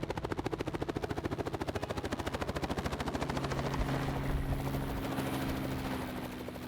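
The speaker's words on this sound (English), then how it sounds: "it wasn't long before Chris Cross of East Kaweka Helicopters arrived with the rest of the crew." A helicopter's rotor chops fast and steady, growing louder as it comes closer, then blending into a sustained engine roar with a rising whine.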